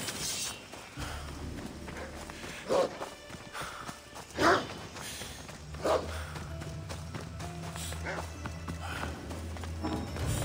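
Horse hooves clip-clop in Assassin's Creed Odyssey, a few louder hoof strikes over a steady low game ambience and rumble, with a voice talking faintly in the background.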